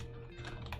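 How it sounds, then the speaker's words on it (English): Keys clack on a mechanical computer keyboard, a quick run of close, fairly quiet taps over a steady background hum. "you'll hear my clackety-clack of my keyboard"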